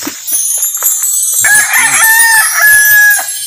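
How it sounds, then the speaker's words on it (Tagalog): A pet alimukon dove calls close and loud, giving a drawn-out series of whistling, crowing-like notes with no talk. "papakita ko sa inyo yung mga ibon ko na mga alimukon"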